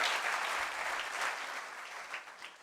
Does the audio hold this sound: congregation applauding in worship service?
yes